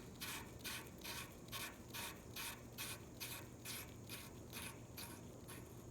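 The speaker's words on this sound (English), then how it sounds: "This is your nozzle tip. We're just going to unscrew this." Injector nozzle tip being unscrewed on an Allis Chalmers 190XT tractor's 301 engine: a faint, regular series of about a dozen rasping ratchet-like clicks in close succession, with no talk.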